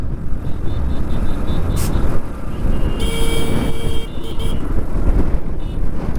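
Steady road traffic rumbles throughout on a windy Ladakh road, with vehicles passing close by and a brief high horn-like tone partway through; no one speaks.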